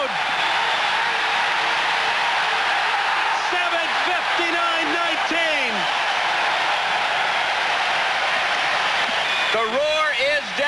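A stadium crowd of 25,000 roars continuously for a steeplechase runner chasing a world record at the 1995 Weltklasse meet, a loud sustained cheer with whistles and whoops, while a commentator talks over it.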